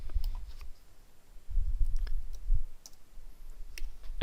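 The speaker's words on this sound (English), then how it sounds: "I click tab" Sharp clicks of computer keys being pressed, a handful of light taps spread irregularly over a few seconds against a low rumbling background.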